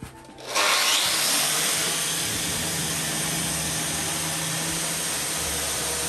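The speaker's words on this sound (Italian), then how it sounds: "Invece qui appunto userò flessibile con un disco apposta." An angle grinder fitted with a dedicated disc spins up and bites into brick during house renovation work, a loud, sustained abrasive whine and grinding roar that holds steady after a sharp start.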